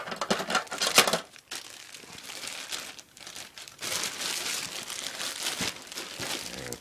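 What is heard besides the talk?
cutting open and crinkling a taped-up plastic bag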